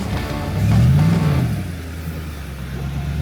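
A 4WD vehicle descends a hill track and climbs the far side, its engine swelling into a loud mid-range rev and then settling to a steady, slightly distant drone with no talk.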